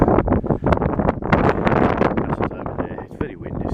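Strong gusting wind buffets the microphone on a hilltop brow at Kimmeridge, loud and roaring in uneven surges, with a person talking over it.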